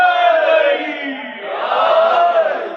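A crowd at a religious celebration chants slogans in unison, a loud, sustained swell of many voices rising, dipping and surging again.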